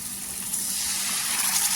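Lukewarm water is poured into a pan of fried masala in one steady, continuous gushing stream, close and fairly loud.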